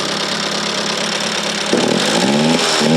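A homemade go-kart engine, its fuel mixture being leaned out, idles and revs roughly and unevenly, loud and close, with the pitch rising and stumbling partway through.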